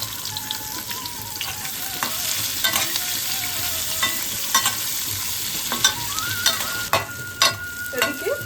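Whole garam masala, a bay leaf and chopped onion fry in oil with a close, bright sizzle, broken by repeated scraping and clinking as a spoon stirs the pan.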